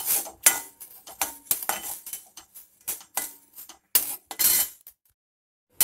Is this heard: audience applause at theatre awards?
no